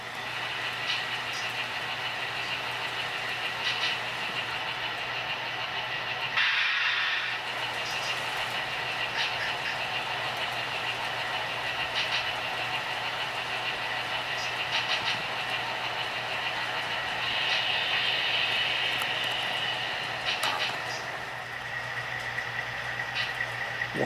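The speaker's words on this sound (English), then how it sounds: "Watching a train coming to Harrison on its way to Newark" A model freight train on a large model railroad layout, heading through Harrison toward Newark, gives off a steady low motor hum and rolling rumble that drones on continuously at moderate volume, with a brief dip partway through.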